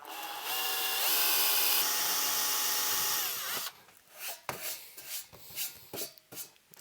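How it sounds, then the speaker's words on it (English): A power drill with a pilot bit whirs steadily for a few seconds while boring holes in a metal amplifier chassis, then stops, followed by clattering and handling noises close by. "Come in and start off with my pilot bit like I always do, to get the centers of the hole"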